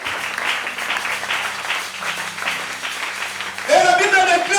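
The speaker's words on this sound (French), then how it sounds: "Nzambe, est-ce qu'on peut acclamer Jésus?" Applause from a congregation at a church service, a steady patter of many hands clapping at moderate volume that swells louder near the end, with a voice and music-like tones joining over it.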